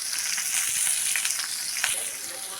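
Onion sautéing in a hot pan, a steady dense sizzle and crackle that runs throughout, close and fairly loud, with faint stirring scrapes underneath.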